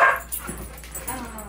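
Several dogs yip and whimper with short excited barks close by, a high burst at the start followed by scattered calls.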